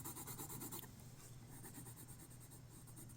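Colored pencil strokes scratching steadily on paper while a green apple drawing is shaded in a second layer, a close, rhythmic rasp of short back-and-forth strokes with no talking.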